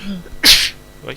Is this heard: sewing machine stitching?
no